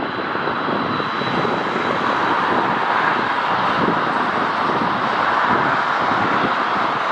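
An ITA Airways jet, a 747-8 at LAX, roars loud and steady with broad engine rumble and a faint high whine, close and continuous, with no talk over it.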